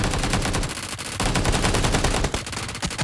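Video game gunfire from a sniper rings out loud and dense, with rapid overlapping shots cracking almost continuously and hardly a pause between them.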